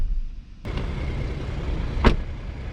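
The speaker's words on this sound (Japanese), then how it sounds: "そしてドアを閉めた音は" The door of a 2022 Toyota Land Cruiser 300 swings shut with a single solid thud, followed by a brief sharp click, heard close up and alone with no talking.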